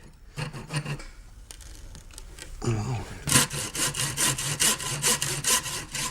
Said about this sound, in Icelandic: Það er miklu betra að nota stóru sögina.